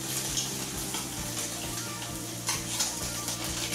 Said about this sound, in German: Räuchertofu und die Energietaler kurz in der Pfanne mit etwas Kokosöl anbraten